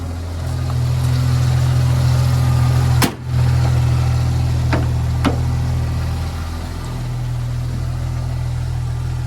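A Jeep TJ engine runs at a steady idle nearby, a loud continuous low rumble with a sharp knock around the third second and a couple of brief clicks later, no voices.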